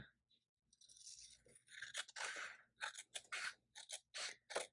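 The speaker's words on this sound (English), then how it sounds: "We need to trim this bottom piece a little bit, or I didn't cut it right." Scissors snip along a printed planner page to trim its bottom edge, a series of close, crisp cuts and paper crunches in quick irregular succession, quiet overall.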